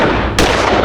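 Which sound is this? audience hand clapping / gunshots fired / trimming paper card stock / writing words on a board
gunshots fired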